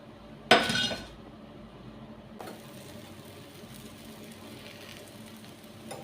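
Jowar flour chapati frying in oil on a pan, opening with a brief loud clatter and clink, then a soft, steady sizzle that continues quietly with occasional small ticks.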